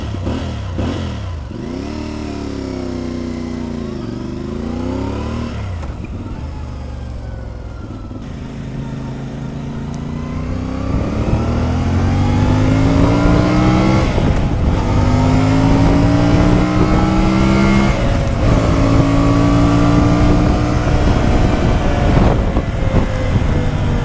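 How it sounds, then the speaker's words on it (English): A 2024 CFMoto 450MT motorcycle on its stock exhaust is ridden, the engine note rising and falling through repeated gear changes and accelerations, loud and close, growing stronger as the ride picks up speed. "I think the sound is quite amazing for stock exhaust, to be honest."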